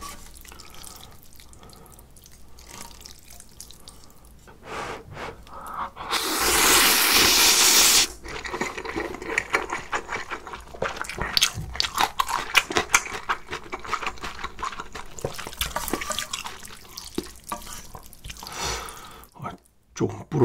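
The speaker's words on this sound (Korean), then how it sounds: "불타는 고추짬뽕 한번 먹어보겠습니다" Spicy chili jjamppong noodle soup with kimchi and sliced green and red peppers is eaten close to the mic. Wet slurping and chewing run throughout, with a louder burst of slurping in the middle.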